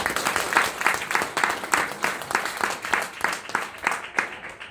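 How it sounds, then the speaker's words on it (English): Steady applause from a wedding reception crowd for the groom, a dense run of many hands clapping in pulsing waves for several seconds before thinning out at the end. "round of applause for Rob"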